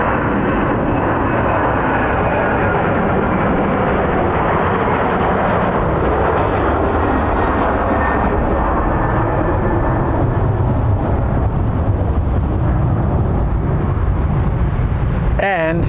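A Southwest Airlines jet in Canyon Blue livery at Phoenix Sky Harbor International Airport gives off a continuous loud jet roar that holds steady for the whole stretch, with a brief burst of higher noise at the end.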